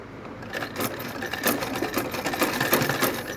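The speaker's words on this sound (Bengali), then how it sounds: "আমি তোমার জন্য সেলাই করতে পারতেছি না তো।" A sewing machine stitches in rapid, rhythmic bursts of needle clatter, close and steady for a few seconds with no talking.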